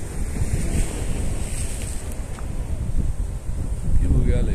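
Sea waves wash in by a pier, a continuous rushing surf mixed with gusty wind noise buffeting the microphone, loud and close, with no clear voices.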